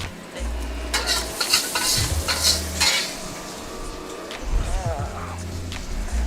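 Bacon sizzling and frying in a wok over medium-low heat as its fat renders into liquid, a steady crackle with metal utensil clinks and stirring scrapes close by.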